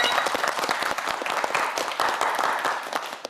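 A studio audience applauds a student contestant leaving a Korean science quiz show, steady dense clapping from a crowd held evenly across the whole stretch with no talking over it.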